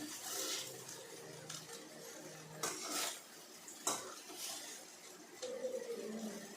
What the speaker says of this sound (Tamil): சாதம் எடுத்து இதில் போட்டு நம்ம கலரிக்க வேண்டியதுதான்.